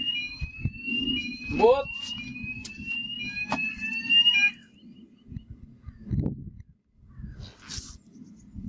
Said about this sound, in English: Yeah, just set a fire alarm.